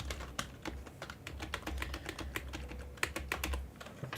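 Typing on a computer keyboard, close and fairly quiet, with irregular bursts of individual key clicks and short pauses over a faint low background hum.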